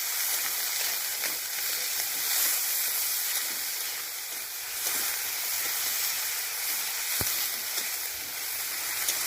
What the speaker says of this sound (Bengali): একসাথে ভালো করে ভেজে নেব।